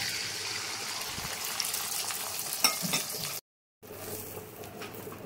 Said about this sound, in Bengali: ভেজে নেবো ডিমটাকে।